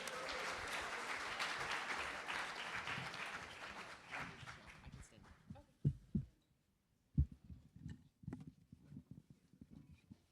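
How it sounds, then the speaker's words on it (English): Audience applause for a guitarist-singer at a community talent show in Mill Valley, a dense sustained clapping that fades after about five seconds into a few scattered claps and bumps. "Clap it up for Luca."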